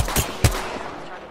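Gunfire in Apex Legends: a few sharp shots, two strong cracks close together and a weaker one after, each trailing into a brief echoing decay, with no talking.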